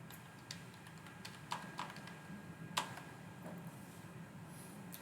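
Typing on a computer keyboard while building a PowerPoint slide: a quiet, irregular run of soft key clicks with a few sharper taps, close by over faint room hum, no speech.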